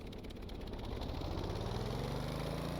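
Simulated engine in Stormworks revving up steadily, a continuous loud mechanical drone whose pitch climbs gradually over a few seconds, heard alone without voices.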